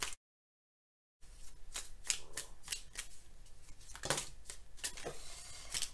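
Oracle angel cards are shuffled by hand after a brief silence, a series of quick, close papery riffles and flicks, fairly quiet and without talking.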